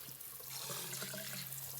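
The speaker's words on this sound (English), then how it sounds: "I'm going to rinse the sand down the drain." A kitchen tap runs steadily into a sink while sand is rinsed off whole tomatoes for canning. The stream makes a quiet, continuous hiss with no pauses and no talking.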